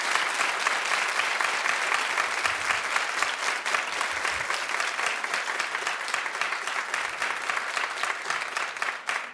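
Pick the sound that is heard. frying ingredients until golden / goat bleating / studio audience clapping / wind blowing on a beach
studio audience clapping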